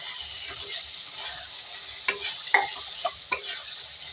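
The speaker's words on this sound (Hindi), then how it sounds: "और उसमें पानी ऐड करके इसकी भुनाई करेंगे।" Turmeric and coriander spices frying in a pan for a panchmel sabzi, a steady soft sizzle with a few sharper clinks and scrapes of stirring near the end.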